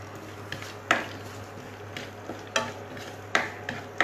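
Chopped almonds, cashews and charoli roast in a pan while a spoon stirs them, making regular scraping strokes about once a second over a faint, steady sizzle, with no talking.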